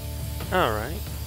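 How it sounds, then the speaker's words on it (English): A loud aerosol-style spray hiss runs for about half a second as graffiti paint goes onto a billboard in inFAMOUS Second Son, the game's background music and effects continuing underneath. "Spray paint everything down."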